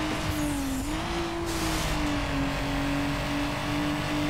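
A car accelerating on nitrous in the racing game Need for Speed Underground, a steady sustained engine drone whose pitch dips and then climbs slightly, loud and continuous over a dense rushing background.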